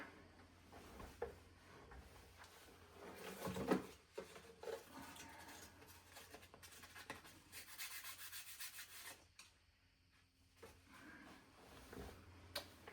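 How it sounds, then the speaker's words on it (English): A soft pastel stick rubbed against sandpaper to remove its coating, quiet irregular scratchy strokes in short bursts, close and faint with brief pauses. "So I'm gonna go rub that on some sandpaper real quick."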